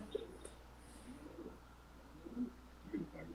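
A racing pigeon held in the hand gives soft, low coos in short bursts, fairly close and quiet against a steady background hum.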